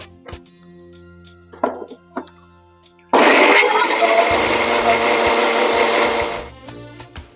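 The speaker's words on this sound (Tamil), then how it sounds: "2 தக்காளியை நல்லா நைஸா அரைச்சி எடுத்துக்கலாம்." A mixer grinder blends two tomatoes to a smooth paste, a loud steady motor whir kicking in abruptly and running about three seconds before cutting off, with quieter kitchen clatter before and after.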